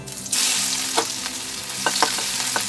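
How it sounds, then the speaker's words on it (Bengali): Radhuni, black cumin, crushed garlic and crushed ginger go into hot oil in a pan and hiss in a loud, continuous sizzle, with a few soft clinks of stirring near the end and no talking. "এবার তেলে দেব রাঁধুনি, এরপর দেব কালো জিরা, থেতো করা রসুন দেব এবং থেতো করা আদা দেব।"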